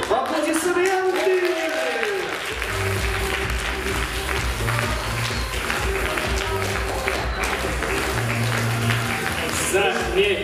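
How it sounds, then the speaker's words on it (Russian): Audience applause at a stage show competition, with steady clapping running under music and some voices for about ten seconds. "Аплодисменты!"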